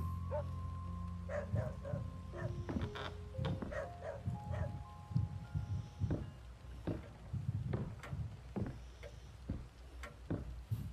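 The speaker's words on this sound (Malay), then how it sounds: "Suara anjing." A dog barks in the horror video game Iblis 3: Phenomena, several sharp yelps and woofs in irregular bursts against a low game ambience and musical tones, fairly quiet overall.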